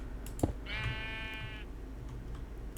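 A single Minecraft sheep lets out one drawn-out bleat in an FTB Unleashed modpack farm, clear and moderately close, with faint clicking in the background.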